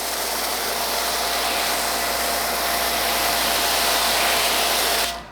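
A budget no-dilution foam cannon on a pressure washer sprays thick soap in one loud, steady hiss that fills the whole clip before it cuts off abruptly near the end.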